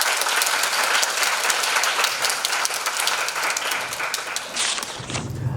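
Audience applause welcoming a lecturer at a book talk concert, steady dense clapping from a sizeable crowd filling the room, tapering slightly at the end.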